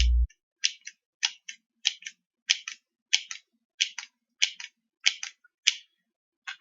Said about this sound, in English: And of course, my accidentally stolen scissors.